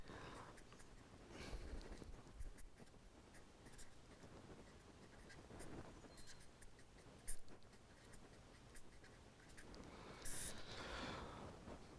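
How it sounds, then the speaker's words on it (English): A pen writing by hand on a surface, steady faint scratching strokes with occasional taps, running continuously at low level in a quiet room. "So, I just write it down."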